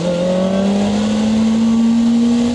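A Kawasaki ZX-4R high-revving motorcycle engine screams in first gear, a loud, close, sustained whine whose pitch climbs steadily as the revs rise, with no voices.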